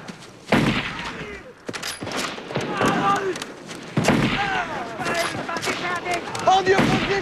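Rifle shots crack out in a battlefield scene, several sharp bursts spread through the clip amid shouting and voices, with loud reports mixed into the chaotic noise.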